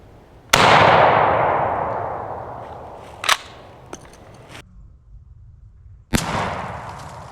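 A shotgun fires a Federal Top Gun 8 shell at a pattern test outdoors: one loud, close blast with a long fading roll, then a few shorter, sharp cracks spaced several seconds apart.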